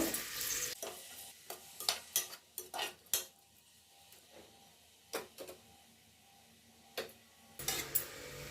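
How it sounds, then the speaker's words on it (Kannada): Chopped onions and green chillies sizzle softly in a pan for tomato bath, with a spoon scraping and clinking in irregular bursts as they are stirred, close by and without talk. "ಇದು ಸ್ವಲ್ಪ ಫ್ರೈ ಆಗಬೇಕು ಈರುಳ್ಳಿ"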